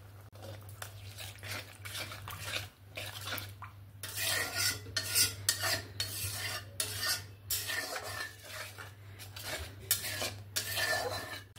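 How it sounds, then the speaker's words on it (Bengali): Spice paste with ground spices and spice-rinse water being stirred and sautéed in a pan for a vegetarian potato, pointed gourd and soy chunk curry, with repeated scraping and clinking of a metal spoon against the pan over a steady low hum. "এবার ভালো করে মশলা ধোয়া জলটা দিয়ে মশলাটাকে ভালোভাবে কষিয়ে নেব"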